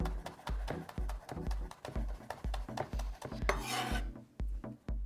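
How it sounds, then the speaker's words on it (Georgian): A kitchen knife finely chops two garlic cloves on a board, making steady, quick rhythmic taps close by that stop near the end. "2 კბილი ნიორით წვრილად დავჭრათ."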